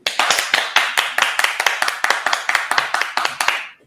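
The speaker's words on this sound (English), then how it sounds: "I need you to give Emotion a A round of applause." Audience clapping for a guest being honoured in an interview show, about a dozen loud, evenly spaced claps in a steady rhythm, close and alone, stopping abruptly.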